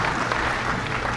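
Audience clapping at a live event at the Cebu Capitol, a short, dense burst of steady applause filling the space.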